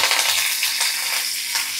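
Curry leaves sizzle in hot oil with cumin and green chillies in a wok, a loud continuous crackling hiss with small sputtering pops throughout.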